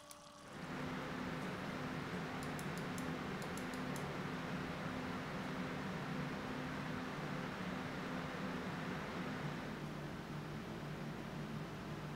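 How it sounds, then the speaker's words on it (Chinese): A Thermalright AIO liquid cooler's pump running together with its bundled radiator fans gives a steady, even whir and broadband airy hiss with a faint low hum, constant at moderate level for the whole stretch. "这边我也分别进行了两款水冷单独水泵的噪音演示，外加搭配各自水冷自带的风扇"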